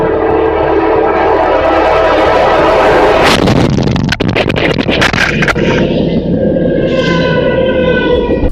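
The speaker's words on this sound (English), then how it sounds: "Focused on the arrest, Anderson failed to see the approaching train, and the worst happened." A train thunders past close by with a heavy rumble and rattling clatter, then a loud horn sounds over the fading roar.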